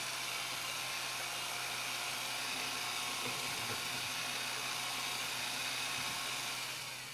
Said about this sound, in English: You want to use a slow to mid-size drill, or slow to medium RPM drill